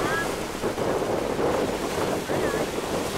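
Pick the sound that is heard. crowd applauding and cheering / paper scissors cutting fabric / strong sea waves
strong sea waves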